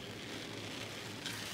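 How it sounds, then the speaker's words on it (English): Heavy rain pours steadily outdoors, a dense, even hiss of drops on surfaces holding a constant level through the whole stretch, with no voices. "As you can see, it is pouring down raining."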